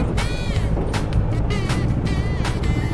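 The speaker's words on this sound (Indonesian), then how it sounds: "truk ini jalan dulu." A truck drives past on a road during a motorcycle camping trip to Alahan Panjang, with a loud, continuous engine rumble, rising whines as vehicles pass close by, and heavy wind buffeting.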